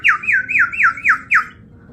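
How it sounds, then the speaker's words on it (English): A water-filled bird whistle at a Renaissance festival gives six quick, loud, warbling trills in a steady rhythm, close up and alone. "I got a bird whistle."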